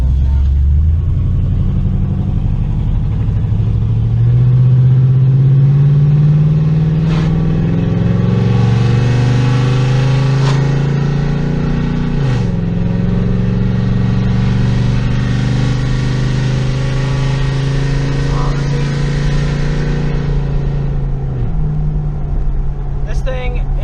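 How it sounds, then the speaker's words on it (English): An older daily-driver car with loud, worn exhaust pipes rumbles steadily while driving, the engine note rising and falling through gear changes and heard up close for over twenty seconds. "y'all want to hear a little exhaust clip?"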